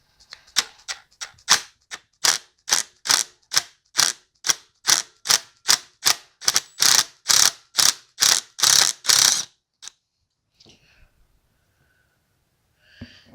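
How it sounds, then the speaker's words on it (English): An impact driver hammers in a rapid burst of about twenty loud, evenly spaced snaps while loosening a screw on a Yamaha Banshee 350 shift star, then stops, leaving only faint handling clicks. "Now we'll take this impact driver, hold the back of your motor, and press real firm and just give it a couple snaps."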